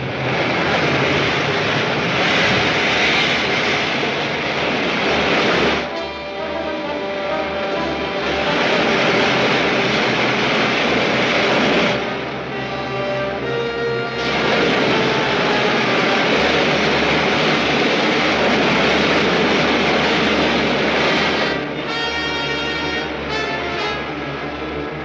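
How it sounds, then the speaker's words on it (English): Rocket ship main jets firing in a 1953 science-fiction serial: a loud, continuous roaring engine rush that swells and dips in long waves, with no talk over it. "Firing main jets."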